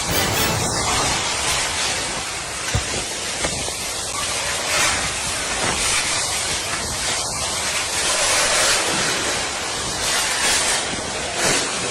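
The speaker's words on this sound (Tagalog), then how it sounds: "Grabe kusugas hangin." Strong typhoon wind roaring continuously in Cebu, with a loud, broad whooshing hiss that surges and gusts, buffeting close by without pause.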